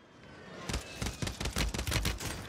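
MP7 submachine gun fire in Call of Duty, a fast burst of close, punchy shots rattling out one after another after a brief quiet lead-in.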